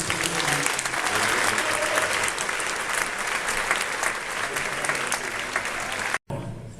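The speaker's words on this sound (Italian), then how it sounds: "ed era Tullio Serafin, che prego di un applauso per ricordare." Audience applause in an opera house honoring a late conductor, a full, loud crowd of clapping that continues steadily before cutting off abruptly near the end.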